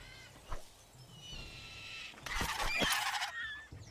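A bird squawks and honks in the survival video game Struggle for Survival, with a short call early on and then a louder, harsher burst of squawking in the second half, with no talking.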